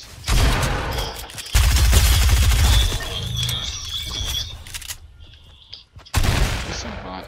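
Gunfire in Fortnite Chapter 2 Season 2 gameplay, heard as loud, rapid bursts of shots with sharp impacts, broken by short quiet gaps before another close burst.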